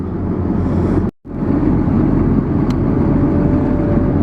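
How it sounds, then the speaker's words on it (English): Strong wind buffeting across an open outdoor area beside a hot saw, heard as a loud, continuous low roar that drops out for a moment before resuming. "there's a pretty good wind coming across here"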